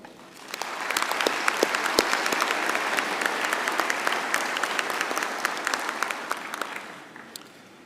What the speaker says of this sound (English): May we give the graduates a round of applause